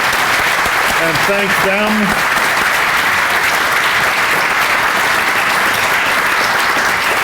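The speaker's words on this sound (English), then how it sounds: "could you all give them a round of applause" Sustained audience applause honours student speakers at an alumni award ceremony, dense and steady throughout, with a brief spoken phrase near the start.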